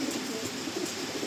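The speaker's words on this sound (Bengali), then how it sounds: "দেখুন নর পায়রা।" An Andhra-breed male pigeon gives low, soft repeated coos over faint background noise, brief and fairly quiet.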